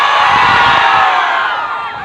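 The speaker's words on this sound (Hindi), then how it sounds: "एक बार अपनी पावर दिखाओ तो चिल्ला के।" A crowd at a Bhojpuri music show shouts and cheers loudly together, a dense, continuous wall of voices that holds steady throughout.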